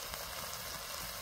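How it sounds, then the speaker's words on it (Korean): Braised salted mackerel reheating in a pan gives a steady, even sizzle and gentle bubbling, close by and unbroken for the whole moment. "자반 고등어 조림을 했던 거를 한번 먹고 지금 데우고 있습니다."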